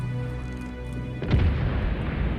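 A cruiser's naval guns fire in a World of Warships battle, a deep boom landing partway through over a steady low engine-like drone, leaving a rumbling, crackling tail behind.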